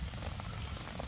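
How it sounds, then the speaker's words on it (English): Heavy rain patters steadily on a tarp at a camp on a stormy morning, making a dense, continuous drumming close by. "My tarp's doing a pretty good job of catching the rain."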